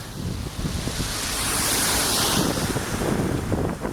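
Sea waves wash in at high tide along the Penzance promenade in Cornwall, a steady loud surf roar with wind buffeting the microphone throughout and no voices.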